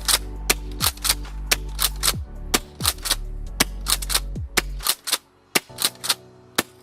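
A gas airsoft shotgun fires RGB tracer rounds in a quick series of about fifteen sharp pops, some closely paired, with a low hiss beneath the first several shots.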